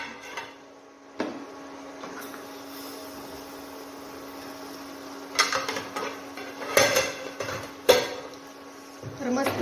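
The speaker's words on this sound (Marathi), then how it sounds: "झाकण काढून घेऊया" A pot lid lifts off mutton masala cooking with oil, giving a few close metallic clanks and scrapes over a low steady hum from the kitchen.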